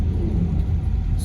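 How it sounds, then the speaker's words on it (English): A DOT truck passes on a snowy road during a nighttime snowstorm in Connecticut, a brief close low rumble of its engine and tires. "You guys can see going by like a DOT truck here."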